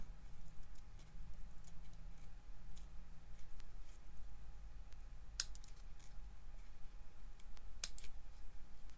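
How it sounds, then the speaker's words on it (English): Scissors trim the bottoms of small decorative craft trees, giving a few sharp close snips, two louder cuts standing out over a low steady background hum, with no talking. "I'm going to just trim the bottoms of my trees."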